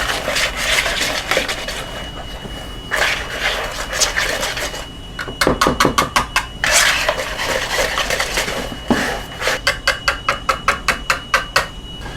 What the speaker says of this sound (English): mix this until it's all worked together.